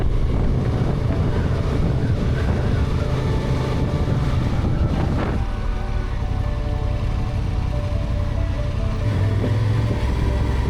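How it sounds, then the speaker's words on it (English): Waves break along a sandy New South Wales shore below cliffs, under steady, loud wind buffeting the microphone, heard from a coastal lookout during a motorcycle trip; the surf is a continuous wash with no talking. "the waves are breaking nicely."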